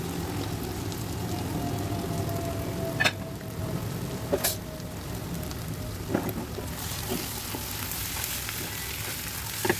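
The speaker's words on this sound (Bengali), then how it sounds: "এখন আমি ভাজা ডিমের ঝুড়াগুলো এর মধ্যে দিয়ে ভালো করে কষিয়ে নেব" Crumbled fried fish-roe egg stirred into a pan with prawns, giving a steady close sizzle with occasional spatula scrapes and taps against the pan, no talking.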